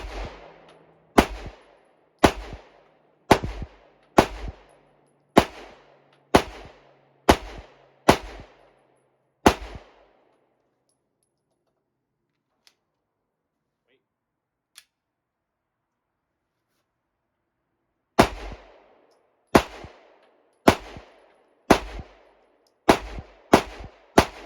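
A Stoeger STR-9 pistol fires at an outdoor shooting range: about ten sharp, evenly spaced shots, a long quiet pause, then roughly seven more at the same steady pace, each crack loud and close.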